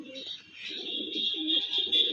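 Male pigeon cooing in a bird-selling setting at Uluberia, low soft coos repeating in short phrases through the whole stretch alongside steady higher chirping of other birds.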